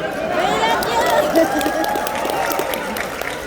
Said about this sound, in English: When I get that much applause before I speak